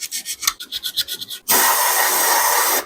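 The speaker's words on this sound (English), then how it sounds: "So I got some 1500 grit sandpaper, and we're gonna clean up the contact points down here" Contact points on an old motorcycle being rubbed with 1500 grit sandpaper in quick, short, close scratching strokes, followed by a sudden steady, loud hiss.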